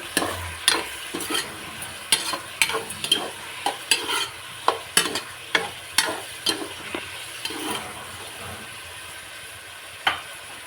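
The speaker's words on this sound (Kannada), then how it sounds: "ಅದಾದಮೇಲೆ ಮತ್ತೆ ಸ್ವಲ್ಪ ಅರಿಶಿನ ಸೇರಿಸಿ ಮಿಕ್ಸ್ ಮಾಡ್ಕೊಳ್ಳಿ." Turmeric being stirred into sambar in a pan, a spatula scraping in a quick irregular series of close strokes over a low sizzle, easing off toward the end with one last scrape.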